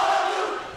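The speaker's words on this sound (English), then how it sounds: "You can hear Hope breaking down their team cheer here" The Hope swim team shouts its team cheer at the MIAA swimming championships, a loud group yell held briefly and then fading, echoing in an indoor pool hall.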